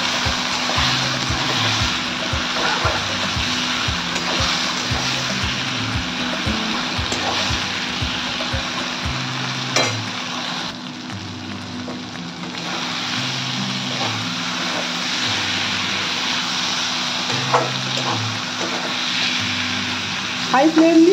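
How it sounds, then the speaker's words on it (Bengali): Mustard, poppy seed and garlic paste fries over a high flame, giving a steady, dense sizzle that runs the whole way through, with a low, stepping musical drone underneath. "এই বাটাটা দিয়ে হাই ফ্লেম দিয়ে এটাকে আমি ভাজবো যতক্ষণ না তেল ছাড় করতে"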